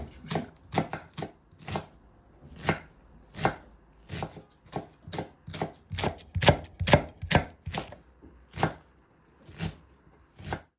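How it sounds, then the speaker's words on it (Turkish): A large onion being finely chopped with a knife on a board, a steady run of sharp, close knocks in uneven bursts, no voices. "öncesinde bir büyük boy soğanı ince ince doğruyoruz"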